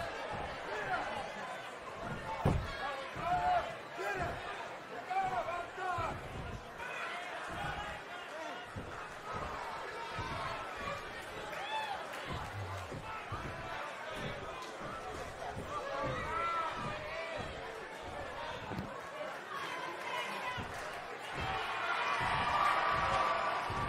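The arena crowd in the wrestling video game WWE 2K20, during an NXT match, gives a steady roar and cheering that swells toward the end, heard beneath continuous commentator talk.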